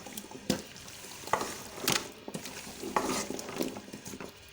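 Potatoes and fenugreek leaves for aloo methi fry in a pan, a steady soft sizzle broken by repeated scraping stirs of a spoon against the metal, close and moderately loud with no talking.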